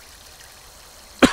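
A single short cough from a character in the video game Northern Lights, a brief burst at the very end after near silence, fairly loud and alone.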